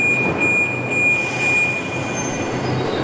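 A Budapest Metro line 4 train travels through the tunnel, a steady loud rumble with a high wheel whine and squeal running throughout, no voices.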